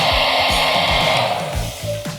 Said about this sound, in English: simply use a hairdryer and use the hot air to blow those wrinkles out